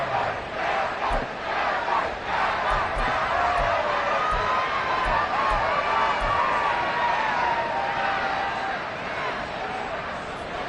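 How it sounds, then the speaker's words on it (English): A large stadium crowd at a Cowboys–Eagles football game roars and cheers continuously, a dense wash of voices that swells and stays loud throughout. "How about some applause for the defense there?"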